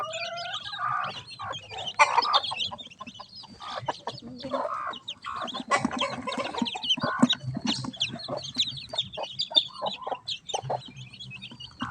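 Twenty newly hatched ducklings in a new enclosure keep up dense, overlapping high peeping and chirping, close and fairly loud, without pause.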